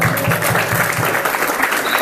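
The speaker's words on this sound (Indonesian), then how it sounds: "Tepuk tangan untuk kita semua." Audience applause during a religious lecture on the Quran, dense and loud continuous clapping from a crowd, close and filling the whole stretch.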